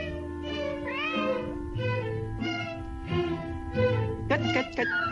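A cat meows repeatedly in a steady series of rising calls, mixed with a background voice and music, ending in a burst of brighter sound.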